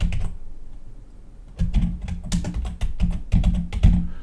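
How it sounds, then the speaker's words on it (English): Computer keyboard keys tapped in quick irregular bursts, close and fairly loud, after a short quiet start; no one speaks. "just go ahead and type that in there"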